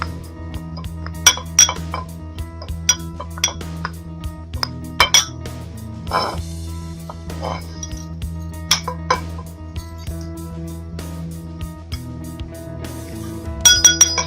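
A spoon or utensil clinks sharply against a bowl again and again in an uneven rhythm while fish marinade with coriander powder and garam masala is mixed, with no talking.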